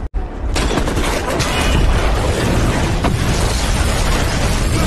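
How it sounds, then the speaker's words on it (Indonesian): A fuel tank bursts in a film explosion: a sudden sharp blast followed by a loud, sustained roaring rumble of fire and debris that fills the scene for several seconds. "Di saat-saat tersebutlah Brandon menembak tangki bahan bakar yang mengakibatkan meledak dan membuat para pemberontak kocar-kacir."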